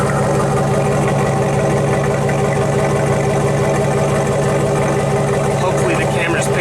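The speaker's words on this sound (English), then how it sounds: "Let's get the exhaust note." A low, steady exhaust rumble from a Jeep Grand Cherokee ZJ 5.9 V8 drones continuously up close, with faint higher-pitched noises creeping in toward the end.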